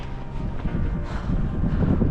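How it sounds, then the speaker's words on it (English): Strong wind blows on the trek to Everest Base Camp in the Himalayas, a continuous gusty buffeting roar hitting the microphone at close range, with no talking. "So windy since last 2 to 3 hours."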